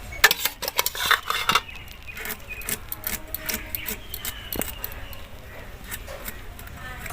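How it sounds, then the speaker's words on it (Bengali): Bottle gourd peel is chopped into tiny pieces with a knife, producing a quick run of close, sharp taps followed by steadier, irregular cutting clicks, with faint talk in the background. "ছোট্ট ছোট্ট করে কুচি কুচি করে নেব।"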